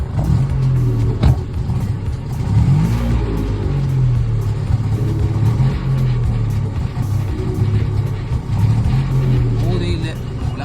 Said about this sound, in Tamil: ஓகே, ரிவர்ஸ் கியரை போடுறேன்.